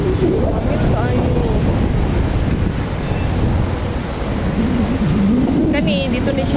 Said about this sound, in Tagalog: Grabe yung kahangin.